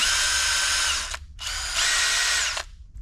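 A drill bores or reams a hole in metal during hydroboost work on a 1971 Dodge Sweptline with a first-generation Cummins swap, in two close whining bursts, with the second slightly longer.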